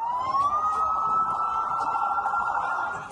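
An ambulance siren wails in Gaza City near Al-Shifa hospital, one loud, close tone sliding upward and then holding steady for about three seconds, with no talk over it.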